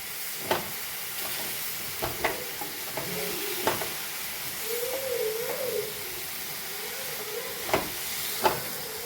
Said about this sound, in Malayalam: ഇതെല്ലാം നമുക്കിത് ഇളക്കി മിക്സാക്കി എടുക്കാം.